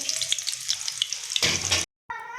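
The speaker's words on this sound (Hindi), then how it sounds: "अब हम इसमें प्याज डाल देंगे भगार के लिए" Hot crackling sizzle of onion hitting a spoonful of heated oil for a tadka, dense and close for about two seconds, then cut off briefly before a different tonal sound. No one speaks.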